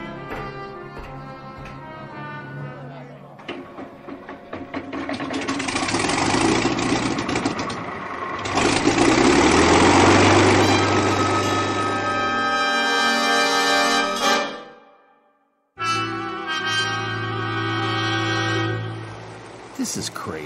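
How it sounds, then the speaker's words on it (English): A starboard boat engine in a radio drama cranks, catches and settles into a steady rumbling idle, loud and continuous, then cuts out briefly before droning on again. "Fire up the starboard engine."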